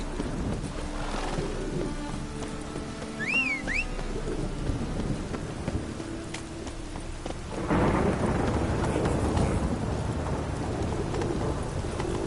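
A thunderstorm with rain in The Witcher video game: a steady wash of rainfall runs throughout, then a deep rolling thunder crash swells in and stays loud, with hoof clip-clops and a brief whistle-like call earlier.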